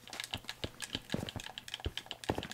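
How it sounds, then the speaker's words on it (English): Game controller buttons click fast and densely during a Minecraft building session, a close, busy run of light plastic clicks with no voices. "I hear the buttons clicking fast and furious over there."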